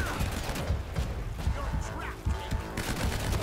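Gunfire from an assault rifle in the video game Uncharted: Drake's Fortune, a loud run of rapid shots in close bursts, mixed with game noise and a brief voice.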